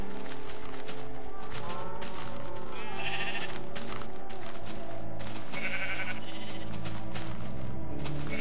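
Sheep in the video game Minecraft bleating over and over, several overlapping calls from a crowded flock of animals, loud and close on top of a constant game background.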